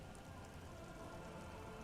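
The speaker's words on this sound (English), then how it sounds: "slowly raining down until it formed a vast ocean" Steady rain falling in the video game Disco Elysium, a continuous broadband patter of drops on surfaces, soft and even throughout with no voices.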